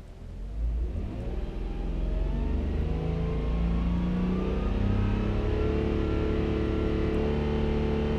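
A Subaru 3.0R engine with a 5EAT automatic, run with the transmission control module disconnected, revs up toward a rev limiter around 4,500 rpm. A loud, close mechanical roar climbs and holds steady with a rising pitch, with no talking.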